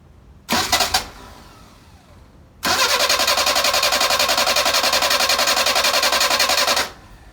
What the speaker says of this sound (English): Let's see if you start your car